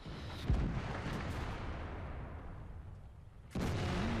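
Two booming cannon shots from a T-34-3 tank in a video game, one at the start and one near the end, each followed by a rumbling decay over continuous engine-like game noise.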